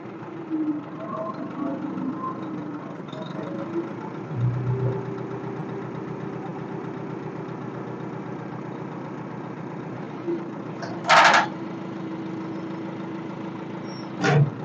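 An International 350 tractor engine idles with a steady low rumble throughout. Voices are heard over it and a few brief sharp noises cut in near the end.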